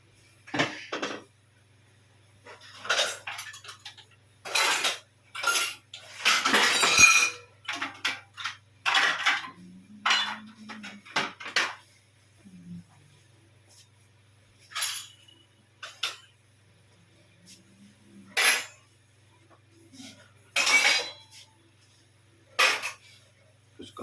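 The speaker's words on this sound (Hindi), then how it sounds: "फिर ये गाइस कल के जो बर्तन साफ हुए रखे हैं ना उनको रैक में लगा देता हूँ" Washed dishes and utensils being set into a rack, a series of close clinks and clatters of metal pots, plates and cutlery in separate bursts with pauses between.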